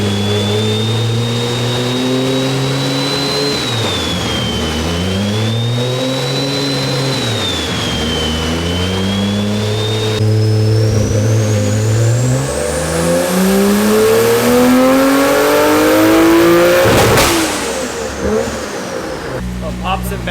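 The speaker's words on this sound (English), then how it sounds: "Nice little punchy exhaust note." A Nissan S15 car engine with an MK4 Supra engine revs up and down repeatedly on a dyno with a punchy exhaust note, climbing to a high-pitched rising whine near the end; loud and close.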